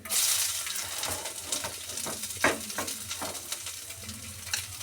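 Ginger and garlic frying in hot oil for a tapioca and tuna curry, a bright continuous sizzle with rhythmic spoon-stirring scrapes, close and alone.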